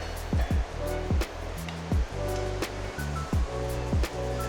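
Water gushes loudly and continuously from a cold water hose clamped into a microbrewery tank, a dense rushing splash broken by a few clunks and thumps nearby.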